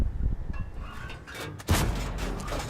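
A JagdPanzer IV tank cannon in a video game fires one sharp, loud shot late on, after quieter rumbling and mechanical noise.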